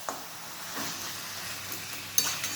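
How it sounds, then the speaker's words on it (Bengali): Mutton sautéing in a pan for curry: a steady close sizzle with scraping stir strokes, a few sharper clinks of the spoon against the pan, no voices. "আমি মাটনটা একটু কষিয়ে নিলাম"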